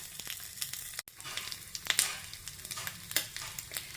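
Coconut pieces fry in hot ghee in a small pan, a steady close sizzle with faint crackles and occasional stirring scrapes, quiet and without talk over about four seconds.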